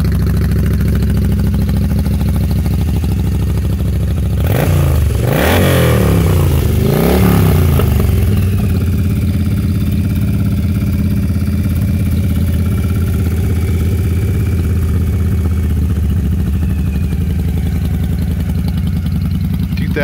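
A 2002 Yamaha V-Star 1100 Classic motorcycle engine idles steadily and close up, its low throb broken by two sharp throttle blips near the start before it settles back to an even idle.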